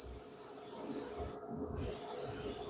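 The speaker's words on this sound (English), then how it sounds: "you know I'm spraying white against white" White paint hisses from a spray gun onto a Peterbilt model truck cab in a steady, close airy spray that cuts out briefly midway and then resumes.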